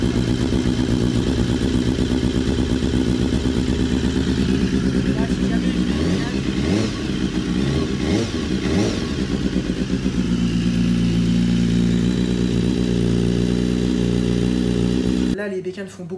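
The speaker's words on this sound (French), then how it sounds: "les bécanes font beaucoup de bruit déjà parce qu'elles sont à froid et on est dans un local fermé qui résonne" Cold BMW S 1000 RR and HP4 Race motorcycles idling without baffles inside a closed, echoing workshop, a loud continuous engine drone with a few throttle blips midway, and a voice talking over it.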